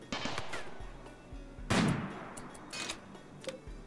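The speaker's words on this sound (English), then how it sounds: "Eimilian has decided to start shooting" Gunfire in the Rimworld video game: a few scattered, fairly quiet shots crack over a busy backdrop, with one louder burst near the middle.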